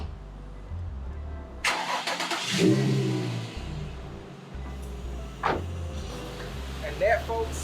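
A car engine, just detailed in the engine bay, cranks and catches after a quiet pause, then settles into a steady idle with a couple of brief revs. Faint voices are heard around it.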